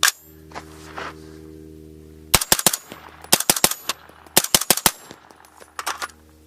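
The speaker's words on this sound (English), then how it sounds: "Let's do some rapid fire before they get here." Rifle loaded from Magpul 300 Blackout subsonic magazines, fired outdoors in rapid bursts of sharp, close reports with a metallic clang to each shot, separated by short pauses.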